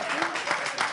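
A burst of audience applause, dense and fairly loud, with a voice murmuring briefly underneath.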